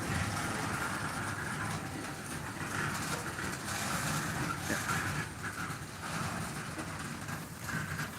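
A freight train passes trackside in Mount Hope, West Virginia, a steady faint rumble and rolling clatter of railcars continuing throughout with no talking.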